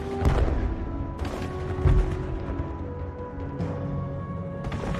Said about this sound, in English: Bombs began bursting in air.